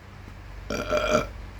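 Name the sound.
burp after eating hot pepper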